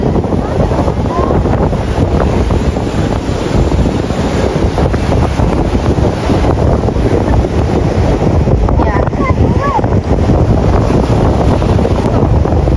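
Strong wind from an approaching typhoon buffets the microphone outdoors near a river, a constant loud roar with rushing gusts throughout and no talk.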